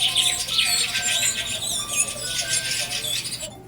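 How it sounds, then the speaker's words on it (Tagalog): Busy high chirps and tweets from birds, fairly faint, overlapping in quick bursts against a soft background hum. "Ibon."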